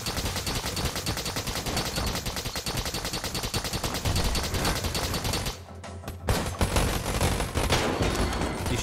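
Rapid, sustained gunfire from the Enter the Gungeon video game, a dense loud fusillade of shots running continuously with a brief dip in the middle before resuming.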